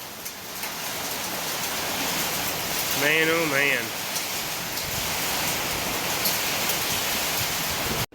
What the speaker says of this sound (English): it started raining, and now there's nice sized hail coming down